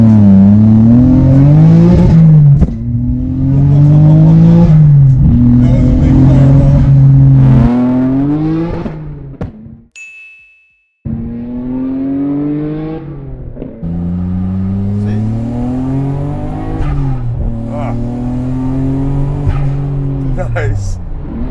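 A Nissan R34 Skyline GTR V-Spec engine revs and pulls hard through the gears, loud and close from inside the car, with a brief gear-change dip before it climbs again.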